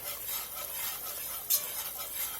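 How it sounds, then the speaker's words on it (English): A whisk stirs flour into hot oil in a pot for a dark gumbo roux, giving a soft, steady hiss and scraping with a light sizzle, quiet and close, with no talking. "I always start out with a whisk just to make sure the flour is well combined with the oil."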